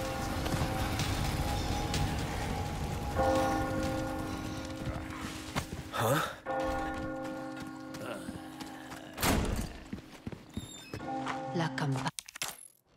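Deep church bell strikes toll repeatedly in Resident Evil 4 Remake, booming tones with long ringing overtones that recur over steady game ambience, broken by a few sharp clicks and thuds.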